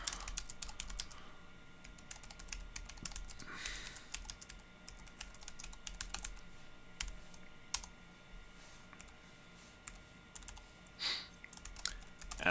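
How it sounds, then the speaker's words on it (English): Steady typing on a computer keyboard during a coding session, quiet rapid key clicks in irregular bursts with a few louder strokes, no talking. "So we'll just type that in real quick."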